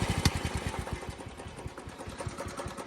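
A worn-out junk lawn mower engine runs rough and rapid, a steady close chatter of firing pulses with no muffler fitted, loud and alone.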